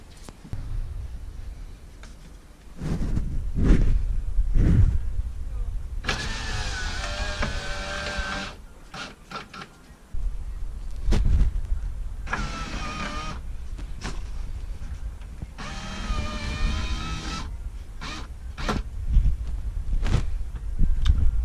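A car's power window motor on a right-hand-drive car, reassembled after harness work, whirs in several bursts of a few seconds each, separated by clunks and handling noises at close range.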